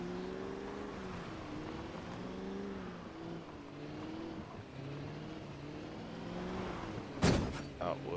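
A car drives in the survival video game Project Zomboid, its engine humming steadily and rising and falling in pitch as it speeds up and eases off, with a sudden sharp crash-like burst near the end.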